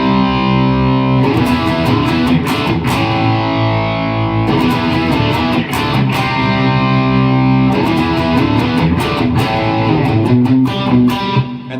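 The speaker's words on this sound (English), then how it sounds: "you do the exact same riff with more volume, more distortion" A loud, heavily distorted electric guitar riff plays continuously, repeating its phrase with sustained chords and sharp attacks, no voices.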